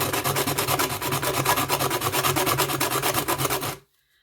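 Steady rapid hand sanding of a medallion clone, a continuous close rasping rub with a quick regular back-and-forth rhythm for almost four seconds, then it stops abruptly into silence.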